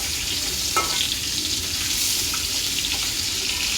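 A piece of fish fries in hot oil with a dense, continuous sizzle close at hand, broken by a light clink or two, and nobody speaks.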